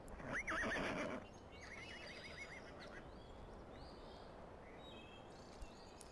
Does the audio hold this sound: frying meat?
no